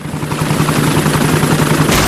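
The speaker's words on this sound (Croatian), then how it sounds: "Helikopter gospođice Zec spasio je tatu." Miss Rabbit's cartoon helicopter in Peppa Pig flies close by, with a loud, steady rotor whir and engine drone that holds throughout.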